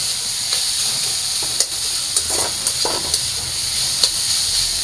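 Dried fish sizzling in a hot pan while being stirred for a shutki bhuna curry, a steady frying hiss with occasional scraping stirs, close and alone.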